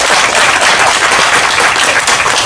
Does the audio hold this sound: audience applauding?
yes